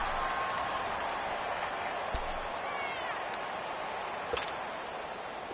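Stadium crowd in a PS4 American football game, a broad steady roar of cheering and clapping swelling ahead of a big third down, continuous and fairly loud with a few sharp bursts.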